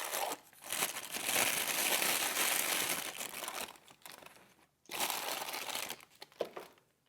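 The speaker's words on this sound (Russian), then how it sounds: "этот ремешок прям явно не хочет вылезать из пакетика" A Seiko Alpinist watch strap is tugged out of a small plastic bag, giving close, loud, continuous crinkling and crackling that briefly drops out near the five-second mark, then resumes with a few sharper rustles.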